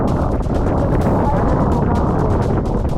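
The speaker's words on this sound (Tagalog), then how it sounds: "ang hangin diri murag nag ipo-ipo" Strong swirling wind buffets the microphone on Mt. Pulag in bad weather, a loud constant roar with gusty bursts throughout, close and unbroken with no voices.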